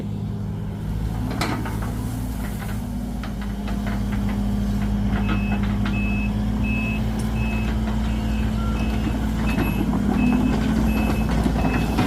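A Sumitomo excavator works to pull a badly stuck 7610S tractor out of deep mud, its heavy engine droning steadily and loud throughout, with a repeating reversing beep joining partway through.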